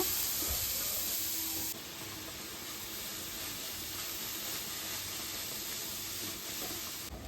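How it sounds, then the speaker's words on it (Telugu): Grated carrots frying in a pan for a carrot curry, a steady loud hiss and sizzle that fills the whole stretch, dropping slightly in level partway through. "ఇక్కడ ఫస్ట్ అయితే పచ్చి వాసన పోయే వరకు మనం వేయించుకోవాలన్నమాట"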